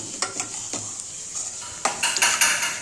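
Grated paneer keema sizzles in a pan under a constant frying hiss while a utensil stirs and scrapes against the metal in repeated clinks, close by and without talk.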